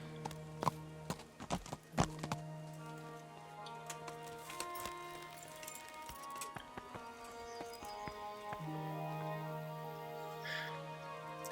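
Hooves clip-clopping as a horse walks in the medieval video game Kingdom Come: Deliverance, a few sharp irregular steps up front giving way to quieter footfalls over steady game ambience and music tones.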